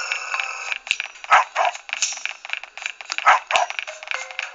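A dog barks in the video game Robbery Bob 2, with a few sharp, close yaps and barks over busy game sound effects.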